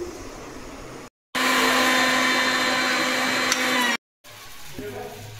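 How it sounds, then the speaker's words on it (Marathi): A mixer grinder whirs loudly, grinding green chillies and garlic cloves in one steady burst between short pauses, with quieter kitchen background before and after. "तर त्या मी आता मिक्सरला छान बारीक करून घेते."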